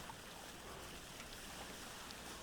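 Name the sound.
waterfalls in the video game Vintage Story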